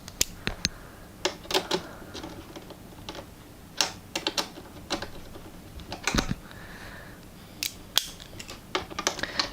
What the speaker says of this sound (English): the last thing we need to do is tighten up our map sensor nuts